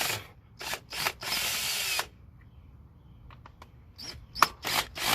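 Power tool or ratchet removing 10mm valve cover bolts on a Toyota Corolla, heard as several loud whirring bursts of a couple of seconds each, a quieter gap, then more short bursts close by.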